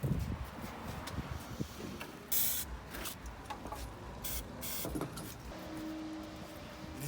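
Aerosol spray can hissing in short bursts near a CF Moto 250SR motorcycle during general maintenance, over a steady background hum and occasional clatter.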